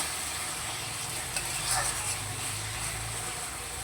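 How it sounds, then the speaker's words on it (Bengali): Masala spice paste frying with a splash of water in a pan, giving a steady soft sizzle with faint stirring scrapes and a brief louder burst near the middle. "এবারও মশলাটাকে খুব ভালো করে কষিয়ে নেব।"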